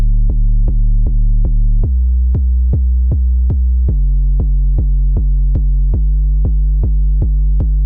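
A programmed synth bass line repeats a piano-derived rhythm in a pop cover production, deep steady plucked notes pulsing evenly and changing pitch every few bars, loud and alone.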